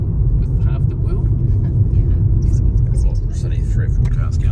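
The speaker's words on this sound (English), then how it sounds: "It's only 3 or 4 cars going" A car interior rumbles with a steady low road drone as a few cars pass along a road near Mapua and Motueka, with quiet talk from the occupants over the engine hum.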